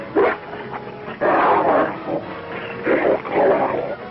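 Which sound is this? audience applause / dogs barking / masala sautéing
dogs barking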